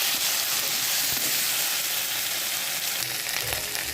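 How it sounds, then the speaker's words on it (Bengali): A spice paste of ground ginger, chilli and cumin frying in oil, giving a close, dense, continuous sizzle with faint crackles throughout. "মশলাটা ভাজা ভাজা হয়ে গেছে"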